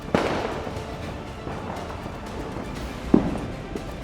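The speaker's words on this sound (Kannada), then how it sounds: "ಲಾಸ್ಟ್ ಪಟಾಕಿ ಈ ದೀಪಾವಳಿಗೆ ಡಬಲ್" A double firecracker goes off outdoors on the last night of Diwali, with two sharp bangs about three seconds apart over faint background noise and no talk.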